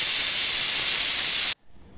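A pressure cooker whistle blasts steam while rajma cooks, a loud, sharp continuous hiss with a steady high tone that cuts off abruptly, leaving near silence.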